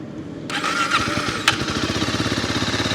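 A 2026 Beta Alp 4.0 motorcycle starts up after a short whirr from the electric starter. It settles at once into a close, steady, rhythmic single-cylinder idle.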